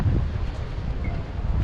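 Steady wind buffeting the microphone along a beach at Canet-en-Roussillon, a continuous low rumbling roar filling the whole stretch with no pauses.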